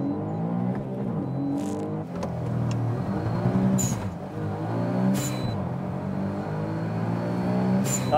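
Tuned Honda S660 cars launch side by side in a standing-start race, engines revving hard and rising through the gears, loud and fairly close, with brief squeals of tires struggling for grip.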